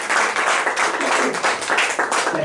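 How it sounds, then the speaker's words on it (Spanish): Church congregation clapping hands together in worship, a loud, continuous patter of many palms with rhythmic surges throughout. "De palmas a nuestro buen Dios, mis amados hermanos"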